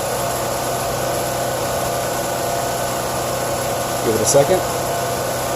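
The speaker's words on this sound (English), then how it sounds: "The compressor just kicked on and it's running on propane" A propane-fueled generator powers a 15,000 BTU air conditioner, giving a steady engine drone with a constant hum as the compressor runs, while a person speaks briefly near the end.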